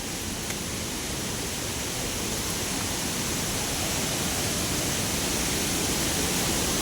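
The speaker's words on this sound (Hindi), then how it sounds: "और एक झरना और फिर दोबारा मिला 2 मिनट में ही, दूसरा झरना इधर जा रहा है" A waterfall on a steep, rugged mountain trail along the Gangotri–Kedarnath trek roars as a steady broadband rush, close and loud, unbroken for the whole stretch with no voices.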